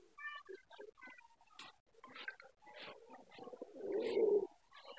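Pigeons kept in a loft, including Siraji and homer breeds, coo and call in a busy mix of bird sounds, with a louder, deeper cooing swell near the end.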